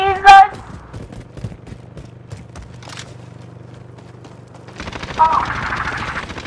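Gunfire in Call of Duty: Warzone: a rapid burst at the start, then scattered distant shots over a low hum, and a dense rattling volley near the end, with a voice talking over it.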